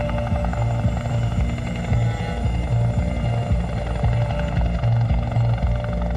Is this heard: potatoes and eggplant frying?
no